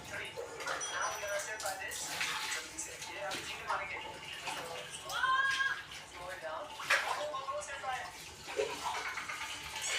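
Water splashes and runs steadily as removed electric fan blades are washed, with a voice speaking over the watery sound at close range.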